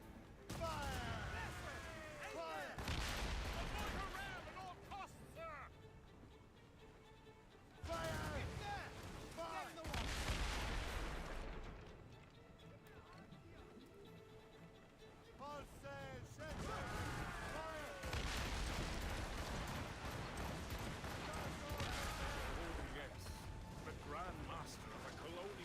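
A ship's cannons fire volleys in a naval battle video game. Heavy booming blasts come in several bursts separated by quieter stretches, mixed with crashing impacts, while voices shout orders over the din.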